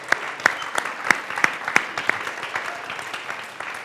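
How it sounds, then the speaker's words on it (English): An audience applauds for Dave at a community gathering, a lively burst of clapping with several sharp, evenly spaced loud claps up front that thin out into a looser, softer patter toward the end. "Big round of applause for our friend Dave."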